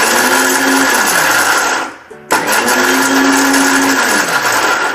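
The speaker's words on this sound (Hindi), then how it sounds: "मिक्सी के जार में ले लिए और हमें पीसना है" A mixer grinder runs in short pulses to grind cashews in its jar: a loud whirring motor, a brief stop and silence near the middle, then another loud burst.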